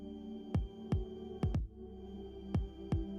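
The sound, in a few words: heartbeat sound shared via smartwatch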